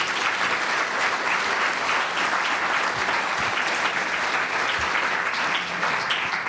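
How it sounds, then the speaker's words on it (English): Sustained applause from a large audience after a talk on CIA paramilitary operations, a dense, steady wash of many hands clapping at even loudness throughout, with no speech over it. "Let's give them another round of applause."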